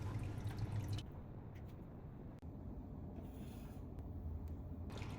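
Water trickles and drips steadily onto small pebbles stacked on a driftwood piece inside an indoor fish tank, a soft continuous splashing patter heard up close with no talk.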